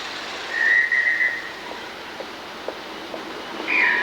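A distant train whistle in San Luis Potosí, Mexico sounds twice, a longer blast then a short one, over quiet outdoor rumble.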